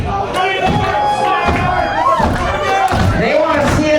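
A wrestling crowd shouts and cheers loudly throughout a match between Mentallo and Drayco, with swelling chants and babble layered over an excited commentator's voice.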